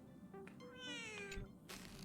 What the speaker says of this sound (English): I hear cats meowing.